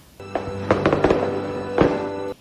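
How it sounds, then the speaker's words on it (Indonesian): Fireworks set off as a surprise produce a cluster of sharp pops and crackles over a steady tonal hum, with a burst of bangs early and another louder pop near the end before cutting off. "memberikan kejutan berupa kembang api"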